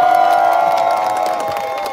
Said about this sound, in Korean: 우리 한결 동지들께 다시 한번 힘찬 박수 부탁드립니다